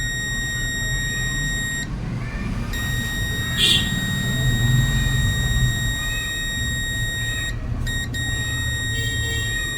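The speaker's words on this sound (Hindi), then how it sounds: "ये दोनों साइड बीप कर रहे हैं, यहाँ भी और यहाँ भी" A multimeter on continuity mode beeps while probing a shorted phone circuit board: a steady high electronic tone that sounds for long stretches, broken by a few short gaps, over a constant noisy background.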